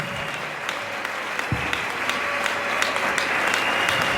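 A church congregation applauds steadily throughout, a dense wash of clapping that swells slightly toward the end, with a dull thump near the middle and no clear voices on top.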